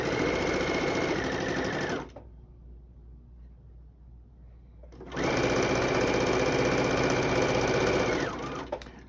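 A sewing machine chain-stitches quilt block pieces in two loud, steady runs of rapid stitching, separated by a pause of a few seconds of near silence.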